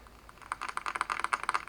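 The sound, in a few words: tapping on a desk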